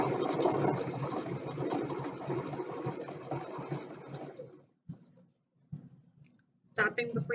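A sewing machine stitches a quarter-inch seam on quilt pieces, running steadily with a fast mechanical whir for several seconds, then stopping, followed by a few faint clicks and handling noises.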